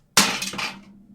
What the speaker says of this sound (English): That was the sound of me throwing more cans on top of each other as I drink them in my room.